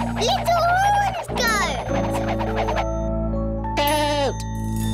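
A farm goat bleats loudly in wavering harmonic calls, two near the start and another near the end, over a steady background of music.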